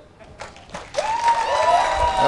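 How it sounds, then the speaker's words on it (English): A live audience at an evening MBA session claps in a scattered burst that thickens into steady applause, with voices and a whistle-like tone rising over it. "give me SRM clap"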